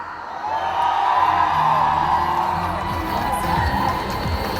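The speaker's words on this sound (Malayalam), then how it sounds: "ആദ്യം നമുക്ക് നമ്മുടെ ഒരു കിടിലൻ കൈയടി കൊടുക്കാം" A stage audience roars with sustained cheering, whoops and clapping for the film team of Sookshmadarshini. The loud crowd noise is continuous and fills the hall throughout.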